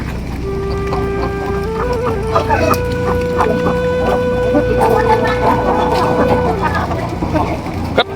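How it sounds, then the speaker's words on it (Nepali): Chickens cluck steadily in a poultry farm, many birds close by with a dense mix of clucks and calls throughout, over a constant low background hum. "कत्रा कुखुरा हुन् कत्रा"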